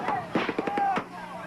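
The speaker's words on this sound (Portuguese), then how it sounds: "Os primeiros tiros são disparados." Military Police riot troops fire shots into the air on a road at Eldorado dos Carajás: a rapid burst of several sharp cracks in quick succession, followed by a brief fading tail.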